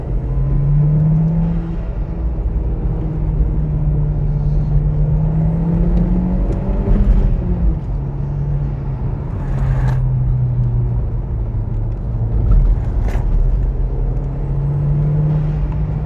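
A Mk1 SEAT Leon Cupra R revs hard at full throttle from the driver's seat, a steady loud engine drone that climbs in pitch, with road roar underneath and a few brief rattles.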